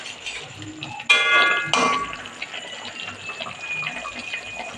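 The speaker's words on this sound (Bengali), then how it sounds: "এবার ঢাকনাটা খুলে দেখবো।" A metal lid comes off a cooking pot of boiled potato stalks for a fish curry, giving two sharp ringing clanks about half a second apart over a faint, quiet simmer.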